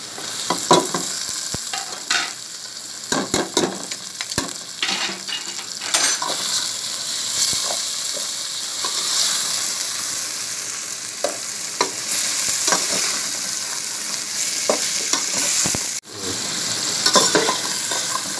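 Chicken pieces frying in hot ghee with whole spices for chicken bhindi masala, a loud close sizzle broken by repeated scrapes and clatters of a stirring spoon against the pan, with no voices.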